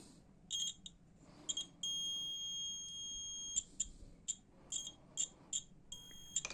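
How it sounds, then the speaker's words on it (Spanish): A piezo buzzer in a simple homemade earthquake detector gives short high-pitched electronic beeps in an irregular pattern, including one long sustained tone, fairly close and alone, with faint low background noise. "tiene que ser un buzzer que sí suene cuando le ponemos la"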